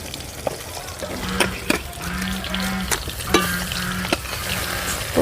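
Fish sizzles in hot oil with a constant crackling hiss, punctuated by several sharp pops and spatters, as rohu fish pieces coated in turmeric fry.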